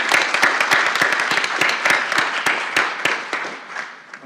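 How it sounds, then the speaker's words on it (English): A small workshop audience claps, individual hand claps clearly audible within the applause, which stays lively before gradually fading out. "One more round of applause for them."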